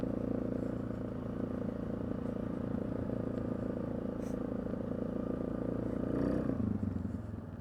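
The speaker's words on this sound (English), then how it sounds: "Nice and quiet engine. You guys can even hear it." A Suzuki KingQuad 750 ATV idling, its engine giving off a steady, low, quiet hum with a faint mechanical clatter, fairly distant and unchanging throughout.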